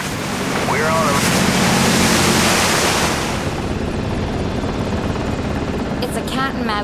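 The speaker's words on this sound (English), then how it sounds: "The helicopter extends the long arm of the law" A helicopter flies low over the sea. Its loud, steady rotor roar mixes with wind and surf and eases slightly toward the end, with voices faintly heard.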